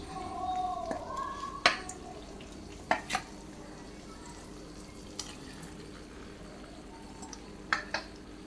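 Cooked macaroni being stirred into a creamy cheese sauce in a pan, with a soft wet squelch early on, then a few sparse clinks of the spoon against the pan over a quiet background.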